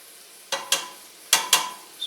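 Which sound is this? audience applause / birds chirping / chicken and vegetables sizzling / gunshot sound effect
chicken and vegetables sizzling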